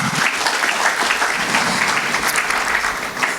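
A church congregation breaks into loud, sustained applause of many hands clapping together at close range, steady for a few seconds without voices.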